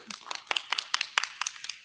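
A short round of clapping from a conference audience, a quick sparse run of separate hand claps that stays moderately loud throughout the brief moment.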